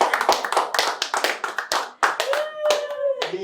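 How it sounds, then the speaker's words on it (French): An audience claps for Denise in a quick, rhythmic run of close hand claps, mixed with voices. "Est-ce qu'on peut applaudir pour Denise?"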